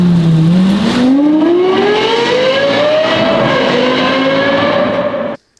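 A Lexus LFA's high-revving engine screams steadily upward in pitch for several seconds, loud and close, then cuts off abruptly.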